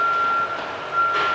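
Steady electronic reversing beeper on a working machine at an industrial site thick with dust, fuel and welding smoke, a continuous high tone sounding at moderate distance over a broad background rumble.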